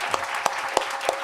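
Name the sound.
audience applause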